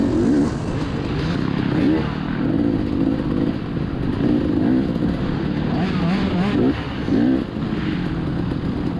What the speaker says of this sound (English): I let this pair of two-strokers by.